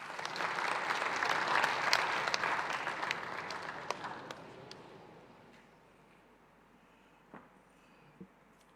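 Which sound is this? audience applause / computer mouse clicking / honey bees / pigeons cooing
audience applause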